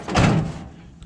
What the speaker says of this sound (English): Door closes.